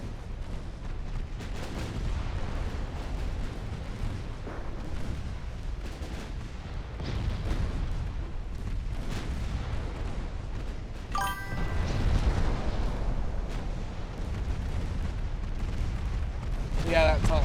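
Ten-inch naval guns firing in a warship battle game, with repeated deep booms and rumbling blasts spread across the stretch, the last ones louder, all under constant background noise.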